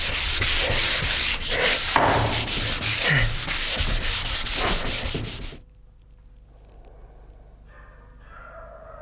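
Steady rhythmic rubbing of sandpaper on a wooden clavichord soundboard, strokes repeating for several seconds before stopping abruptly, leaving quiet with faint tapping.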